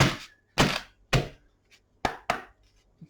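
Tarot cards being shuffled by hand, heard as a series of sharp, close slaps and thumps in an irregular rhythm, each burst brief and separated by quiet gaps, with no voices.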